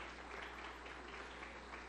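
A live audience at a Catholic family education talk in Mexico claps steadily, a dense continuous patter of applause at moderate distance with no voices on top.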